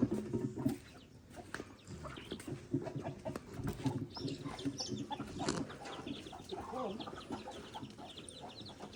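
Backyard chickens cluck and murmur on and off at a moderate distance, a soft scattered stream of fowl calls with some faint background noise and no clear talking.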